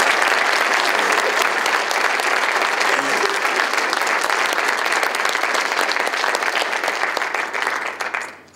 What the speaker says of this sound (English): let's give again one more applause to our